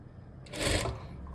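A sewing machine stitches a blouse in one short, loud mechanical burst that rises and fades within about half a second, over faint background noise.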